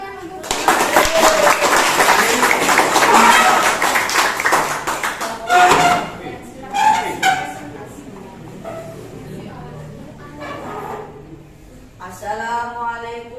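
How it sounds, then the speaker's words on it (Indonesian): Students in a grade 9 junior high classroom give a burst of dense applause that fades after a few seconds, then children's voices and scattered claps and taps follow. "Oke, ya, beri tepuk tangan untuk"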